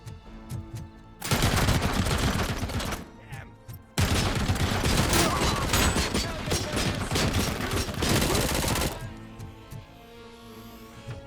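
Loud, sustained automatic gunfire in the video game Robocop: Rogue City, two long continuous volleys separated by a brief break, with game voices shouting around it.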